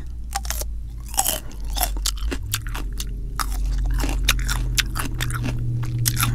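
Repeated close crunchy bites and steady chewing on fresh cucumber slices dipped in ranch and dressed with a little vinegar and sugar, irregular wet crunches in quick succession over a low background hum.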